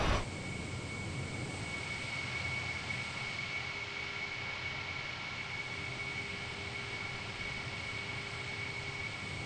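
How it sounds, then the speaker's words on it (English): An airliner lands on a runway in Microsoft Flight Simulator, a steady engine roar with a high whine carrying evenly through the touchdown and rollout, no voices. "So, we're just gonna drop onto the runway."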